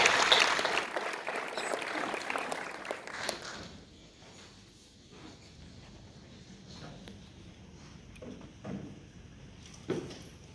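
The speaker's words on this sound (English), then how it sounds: "Applause, ladies and gentlemen" A crowd claps loudly at first, then the applause thins out into scattered claps and faint room noise.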